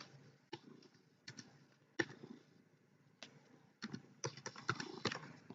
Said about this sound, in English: We'll type that in here.